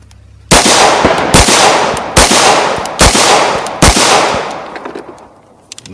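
Five loud pistol shots from a CZ P07 fired double action at a range, evenly spaced about a second apart, each a sharp crack with a short ringing tail, no talk.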